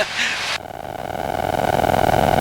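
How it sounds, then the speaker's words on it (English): A light aircraft engine runs at 9,000 feet during an in-flight engine check, with a loud burst of broadband noise giving way to a steady droning hum with strong tonal harmonics. "Do a quick engine check"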